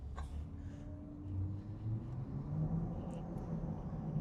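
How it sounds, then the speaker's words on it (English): A Smart car on knobby tires rolls along on a test drive, a low, faint rumble of road and tire noise with engine hum rising slightly, heard from inside the car. "we're going for a nice little test drive here in the Smart"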